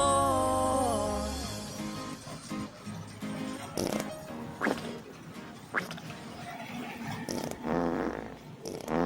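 Fart sounds in a comic Bisaya song: several short, squelchy bursts scattered over music, some loud and close, recurring at irregular intervals.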